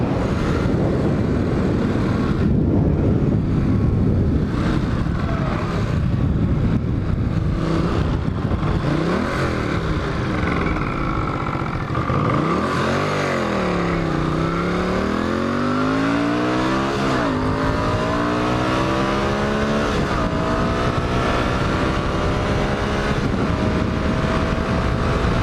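Honda CX500 motorcycle ride in cold air, with a loud, continuous engine drone close by that rises and falls in pitch through gear changes and acceleration, overlaid with wind rush.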